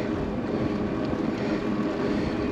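Wind blowing across the microphone during a riverside bike tour, a steady low rumbling buffet that stays constant throughout with no speech.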